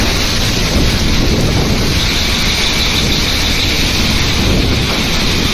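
A Shanghai thunderstorm with hail and heavy rain roars as a loud, dense, unbroken wash of pounding precipitation, wind buffeting the microphone and low rumbling throughout.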